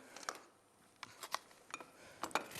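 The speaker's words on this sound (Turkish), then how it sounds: "Şimdi ben şöyle bir kase alacağım." A few light ceramic clinks and taps come up close as a bowl is picked up and set down, sparse and quiet against a hushed room.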